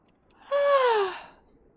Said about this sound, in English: Dang it, I'm yawning again.